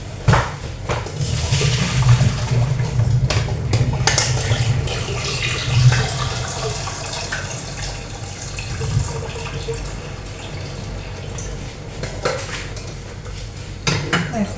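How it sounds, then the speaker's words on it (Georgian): Cold water runs over boiled eggs in a pot, a steady tap-like splash with clinks of a pan and utensils, close and without talk. "რომ ცივი წყალი დავასხა."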